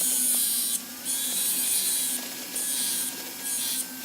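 A high-pitched whirring rasp of a rotary sanding disc grinding a hand-fabricated metal pendant, steady and loud, dropping briefly in bursts between passes.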